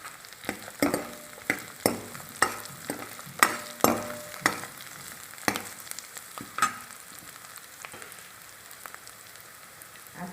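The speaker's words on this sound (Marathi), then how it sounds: "कांदा चांगला खरपूस परतून घ्यायचा। आता आपण अद्रक टाकून घेऊ।" Onions and ginger fry in a pan for a vada sambar, giving a steady crackling sizzle with sharp clicks and stirring knocks. These come every half second or so early on and then thin out, with no talk.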